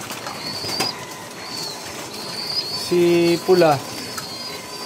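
Pigeons in a home loft give a short burst of low, throaty cooing, with soft wing flaps nearby, over steady background noise and someone talking.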